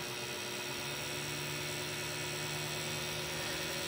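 Steady idle of a 1970 Pontiac Ram Air III V8 at about 1,000 rpm with its original distributor, a constant close engine rumble with no change in pitch or level throughout.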